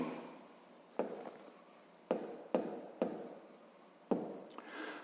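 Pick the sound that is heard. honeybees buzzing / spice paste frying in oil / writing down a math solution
writing down a math solution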